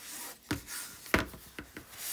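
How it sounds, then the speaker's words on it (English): Sandpaper rubs over a Chalk Couture craft surface in a few short, close strokes, each a brief dry scratch with quiet pauses between. "if you could call it paper sanding, that's what I'm doing"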